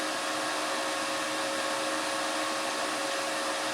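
A VEVOR MMA 200 stick welder idles just after being switched on, giving off a steady, even whir of cooling-fan noise with a faint constant tone. No one speaks over it.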